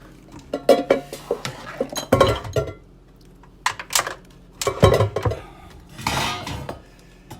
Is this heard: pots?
yes